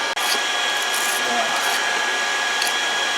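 A forge roaring steadily while heating a feather pattern Damascus steel billet for a forge weld, a loud constant blowing rush filling the whole clip with a faint tonal whine and occasional light clinks.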